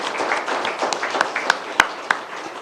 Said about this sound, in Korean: 다시 한번 박수로 환영해 주십시오